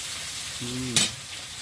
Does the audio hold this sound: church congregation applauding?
no